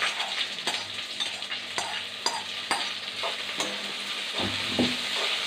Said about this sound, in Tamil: இப்போது வதக்கி வச்சுருக்க வெண்டைக்காய் எடுத்து போட்டுக்கலாம்